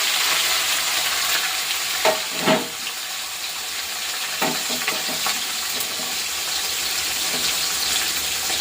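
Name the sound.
fish frying in a pan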